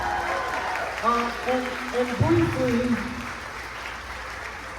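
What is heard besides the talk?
audience applause at orchestra rehearsal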